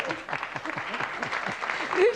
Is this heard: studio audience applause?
yes